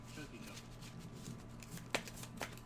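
Quiet riffling and snapping of a deck of Flesh and Blood trading cards being shuffled during a game, with a couple of sharper card slaps near the end.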